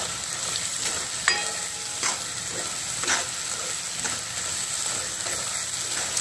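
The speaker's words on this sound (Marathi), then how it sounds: "छान असं याला तेल सुटेपर्यंत आपल्याला परतून घ्यायचं आहे." Pumpkin being stir-fried in oil in a home kitchen pan, a steady close sizzle with occasional scraping stirs and a few louder clinks of the spatula; no one speaks.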